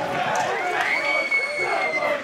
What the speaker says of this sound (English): The home crowd cheer